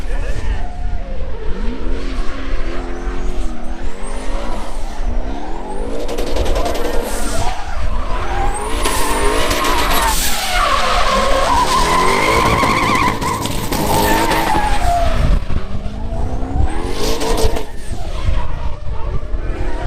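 A drift car on a qualifying run in a drift series round gives long, loud tire skids and squeals over a revving engine whose pitch rises and falls, continuous and close.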